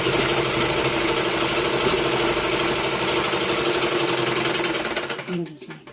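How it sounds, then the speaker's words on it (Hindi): A sewing machine runs steadily, stitching a finishing seam along the sleeve of a simple suit. Its rapid, even needle clatter stays loud and close, then stops abruptly near the end. "इसको भी हम फिनिशिंग के लिए इसके ऊपर एक सिलाई लगाएंगे।"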